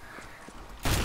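A brief burst of gunfire in the game CS:GO breaks in loudly near the end after a quiet stretch.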